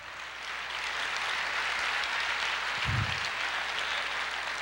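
Church congregation applauding, a steady broadband wash of clapping filling the room at moderate level, with a brief low thump partway through.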